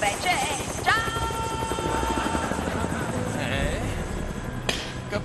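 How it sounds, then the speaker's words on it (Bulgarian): A helicopter flies close by in an animated television episode, its rotor chop and engine whine running steadily throughout, with brief sharp effects layered on top. "Хей, кой управлява хеликоптера?"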